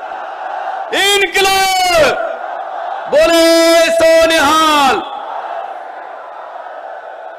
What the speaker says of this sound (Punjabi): ਦੋਨੇ ਹੱਥ ਉੱਪਰ ਚੱਕ ਕੇ ਦੋ ਨਾਰੇ ਲਾ ਦਿਓ